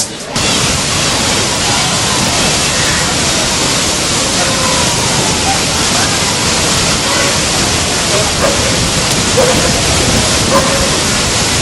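A waterfall in Morocco roars as a loud, steady, broadband rush that fills the whole stretch without pause, with faint voices buried beneath the constant water noise.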